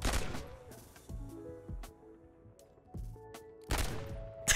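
Quiet in-game gunfire from a magazine dump in Modern Warfare 3's One in the Chamber mode: a few sharp bursts of rapid shots separated by pauses, with short melodic game tones in the gaps.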